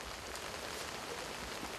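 Steady rain pours down over a palm sap collection site in Sri Lanka, a dense, even hiss of drops striking leaves and surfaces throughout with no voices.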